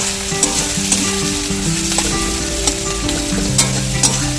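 Onions sizzle and fry with a pinch of salt in a pan, a loud continuous crackle with scattered pops and stirring scrapes, close up and with no talking.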